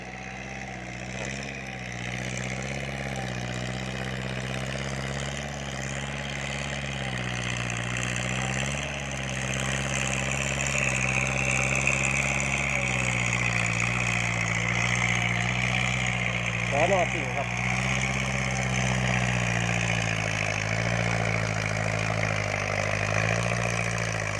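A Kubota L5018 tractor engine runs steadily in a field with a droning, throaty hum, its pitch rising slightly as it revs partway through, while someone talks over it.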